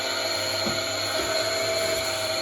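A chisel is ground on a coarse grinding wheel, giving a steady, loud whirring drone with a faint rasp of steel against stone, continuous throughout with no talking.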